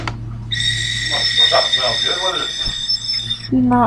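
A piccolo blown with too little air gives a thin, breathy, airy tone with unstable high partials, not a clean note, sustained for about three seconds at steady loudness before a brief low voice at the end.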